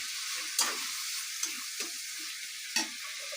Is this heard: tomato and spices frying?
yes